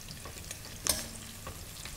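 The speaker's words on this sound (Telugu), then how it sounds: "వేగుతున్నాయి కదా బాగా" Dry fish curry frying village style in a pan with onion and chilli powder, giving a faint, steady sizzle with light stirring scrapes and one brief sharper clink, no one talking.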